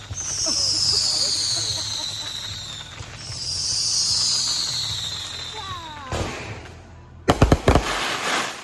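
Fireworks boom and crackle near the end after a stretch of hissing, whistling rockets; sharp, loud bursts in quick succession over steady outdoor noise.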